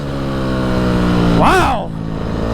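Stock Honda CRF250R four-stroke motocross bike revving, a steady close engine drone that spikes sharply up to the rev limiter and drops back off.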